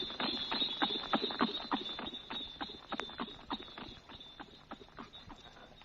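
Hooves clip-clop in a quick, steady rhythm as a horse-drawn carriage rolls along, faint and slightly distant, with wheels rattling faintly underneath.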